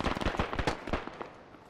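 Gunfire in a military shooter game set in a war-torn city, rapid sharp shots in a quick irregular burst for about a second, then quieter trailing reports fading out.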